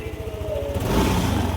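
A Yamaha NMAX 155 scooter with a stalling fault revs up close, its throttle rising from a pulsing idle into a louder, sustained whine.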